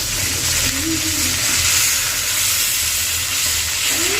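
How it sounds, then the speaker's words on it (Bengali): Continuous sizzling and crackling of fish frying in hot oil, a steady loud hiss close by with no talking. "মাছটা সুন্দরভাবে ভাজা হোক"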